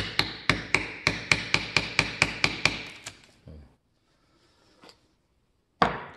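A brass mallet taps a wood carving chisel about a dozen times in a quick, even rhythm while a plate is hand-carved, then stops, with a couple of softer knocks and one final sharp strike after a pause.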